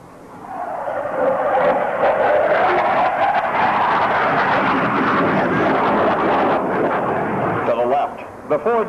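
Blue Angels jets in the 1987 Carswell Air Force Base airshow fly the opposing four-point hesitation roll, a loud sustained roaring rush of jet engines that swells and holds, then fades near the end.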